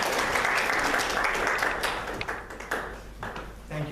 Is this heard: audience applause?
yes